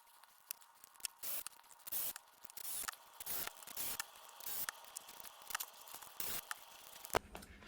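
Small metal parts are screwed onto a PTFE M4 rifle receiver. Close, faint clicks, ratcheting and scraping come in irregular bursts, with no talk.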